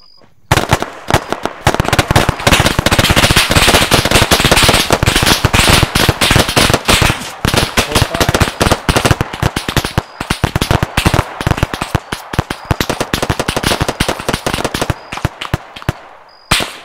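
Loud, sustained bursts of automatic gunfire in ArmA 3 during a night-time zombie survival scenario, dense rapid cracks running almost continuously for over fifteen seconds with brief gaps near the end.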